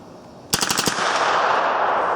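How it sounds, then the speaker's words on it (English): A 9mm AR-15 rifle fed from an original 635 magazine fires a quick burst of about five sharp shots of old ammunition, loud and close, followed by lingering ringing noise. "we are shooting ammo that's 15 years old, 20 years old"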